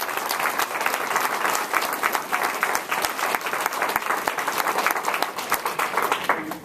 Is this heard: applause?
yes